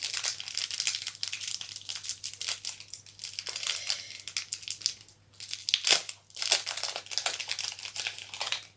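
Plastic packaging around a small kabuki makeup brush crinkles and crackles as it is torn open, a dense, close, steady rustle that briefly eases midway before resuming.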